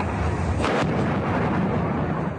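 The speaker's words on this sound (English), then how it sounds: "Blasts and sirens in Khan Yunis, the now familiar sounds of war inside this ancient city" A loud, sharp blast bursts out over a dense, rumbling roar of distant war noise in Khan Yunis, Gaza, with no voices.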